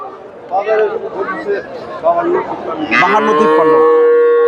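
Friesian cattle at a Bogura cattle market low repeatedly, with a long, loud moo near the end standing out over a steady din of market chatter and voices.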